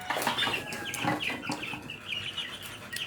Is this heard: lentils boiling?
no